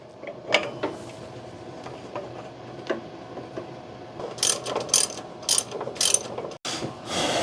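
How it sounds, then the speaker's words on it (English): A ratchet torque wrench tightens belt tensioner bolts on a 1993 Chevy Blazer, brisk clicking pawl bursts close by, sparse at first and then louder rapid runs of ratcheting. "Now we'll torque everything down."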